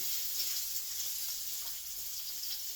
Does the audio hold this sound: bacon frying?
yes